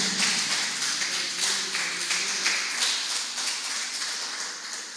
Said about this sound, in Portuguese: Quem ama Ele pode aplaudir o seu nome esta noite.